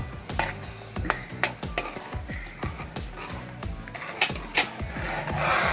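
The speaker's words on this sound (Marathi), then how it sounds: "हे आता सारखं असं हलवत राहायचं म्हणजे दूध फाटत नाही." Sweet potato kheer being stirred in a pot of milk with sugar and boiled sweet potato, a spoon scraping and knocking steadily against the metal over a continuous simmering hiss.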